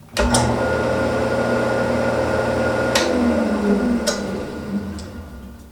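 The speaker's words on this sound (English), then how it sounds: "this Lathe disc sander" A homemade 12-inch disc sander driven by a lathe runs with a loud steady motor hum and whir, sporadic ticks and taps over it, winding down slightly at the end.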